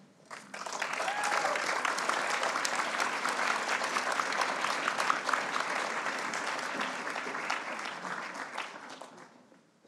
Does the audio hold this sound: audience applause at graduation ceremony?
yes